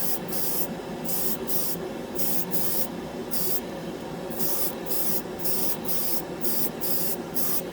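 An airbrush sprays Black 3.0 paint in a steady, close hiss. The hiss pulses on and off in short bursts as the trigger is worked, with no voices.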